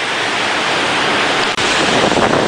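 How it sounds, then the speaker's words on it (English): A river in Patagonia near El Chalten rushes beneath a bridge, a loud, continuous broadband roar of flowing water with wind buffeting, briefly cut by a sharp dropout midway, without any voices. "I'm going to stop in the middle, though, and show you what this river looks like."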